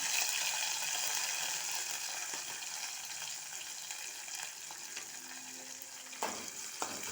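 Green chillies and onions frying in oil for an okra fry, a faint steady sizzle and crackle with a few soft clinks of a utensil near the end.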